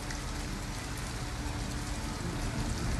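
Heavy, steady rain pours down in a futuristic Detroit street scene of the video game Detroit: Become Human, a dense, continuous hiss that stays loud and unbroken throughout.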